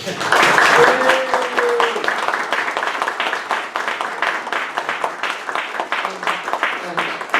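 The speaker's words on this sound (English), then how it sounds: "we'll give you a big round of applause here" A council meeting audience gives a big round of applause honoring someone, a dense continuous clapping that holds steady throughout with faint voices underneath.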